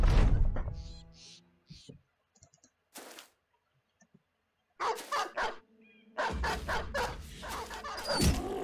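Dogs bark and yip in the video game Battle Brothers, several sharp bursts followed by gaps and clicking, then a denser stretch of noisy combat sounds toward the end.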